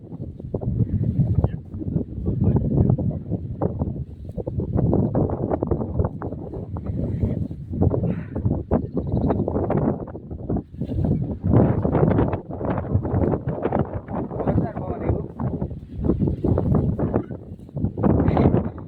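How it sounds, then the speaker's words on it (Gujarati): Strong, gusty wind during rain buffets the microphone in loud, roaring surges that rise and fall continuously. "નેક્સ્ટ લેવલ પવન આવે ભાઈ લોકો"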